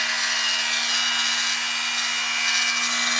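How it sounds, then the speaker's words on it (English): A Dremel rotary tool fitted with a small felt polishing bit works the face of a Glock striker, giving a steady, close whirring rub with a constant motor hum and no talk. "this is my favorite Dremel tool to do this with"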